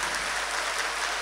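A crowd applauds at a Hindu religious conference in Namakkal, giving a short, dense burst of clapping that stays steady and fairly loud throughout, with no voices over it.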